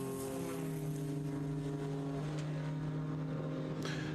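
1970 Porsche 911 running in a vintage race at Watkins Glen, a steady buzzing engine note with a sustained drone that shifts slightly in pitch, heard at moderate distance and fairly faint, with no talk.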